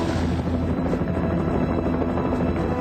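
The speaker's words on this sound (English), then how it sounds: "rocket-propelled grenades hit Kern's Huey helicopter." A Huey helicopter flying toward a landing zone in Vietnam in 1970 gives a steady, loud rotor-and-turbine drone with a constant low throb throughout, with no voices.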